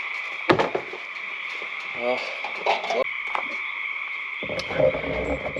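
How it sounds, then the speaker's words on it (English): Frogs croak near a cabin in the woods, a steady droning chorus with a few sharper calls, while people talk briefly over it. "Oh yeah. The froggies."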